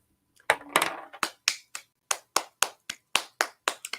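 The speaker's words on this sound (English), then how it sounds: "I have to give her a round of applause." Hands clapping, a string of about a dozen sharp, evenly spaced claps close by, alone with no talk.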